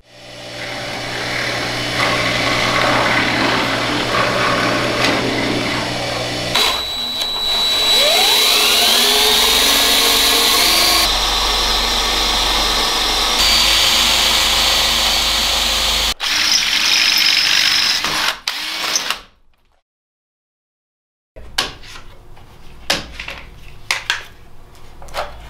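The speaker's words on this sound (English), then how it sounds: "So I'm going to have to take this back down quick like and drill a second set of holes" A power drill boring a second set of holes lower down on a wooden board while a camera boom arm is mounted, running loud and continuous in bursts, then stopping into a brief silence before quieter workshop handling sounds.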